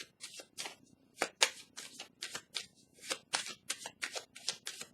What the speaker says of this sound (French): Je vais déposer une carte sur le caducée pour avoir des détails.